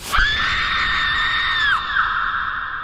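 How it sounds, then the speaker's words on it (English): A dubbed ADR scream from the 2018 horror film Slender Man, a loud, sustained high-pitched shriek held for nearly two seconds before breaking off, then trailing into a fainter wavering cry. "Then there's this awful ADR scream."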